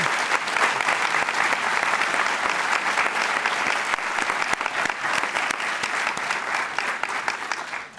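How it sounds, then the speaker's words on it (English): Sustained applause from an audience for a guest speaker, the Chairman and CEO of Morgan Stanley, at a school event; dense, steady clapping fills the hall for about eight seconds, tapering slightly at the end. "Can we give him a round of applause,"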